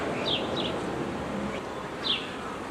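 Honeybees buzz steadily around their hive near a wattle tree, a close, continuous drone with a few louder passes as individual bees fly by, with no voices.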